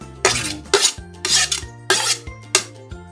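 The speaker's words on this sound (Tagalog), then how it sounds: "to mix all the ingredients into this bowl" Lumpiang Shanghai filling with minced garlic and onion being mixed in a bowl, a series of rhythmic scraping and knocking strokes from a utensil, about six distinct scrapes at a steady pace, close and clear with a faint hum beneath.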